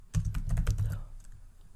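Rapid keystrokes on a computer keyboard while entering a spreadsheet formula, about a dozen close, crisp clicks in a quick burst that tapers off, with no talking.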